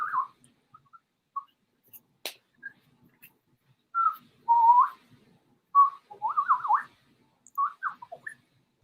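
A person whistles in imitation of natural bird sounds, giving short clear chirps and warbling trills separated by pauses, close and alone.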